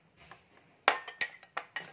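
Utensils clink against a bowl while a mango seafood salad is tossed, making about five crisp metallic taps in an uneven rhythm, close and clear with no talk.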